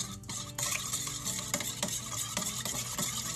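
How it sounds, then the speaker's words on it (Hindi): A yeast mixture is stirred briskly in a bowl, producing close, rhythmic scraping and swishing strokes that repeat every half second or so over a low background hiss. "इसको अब मिक्स कर लो।"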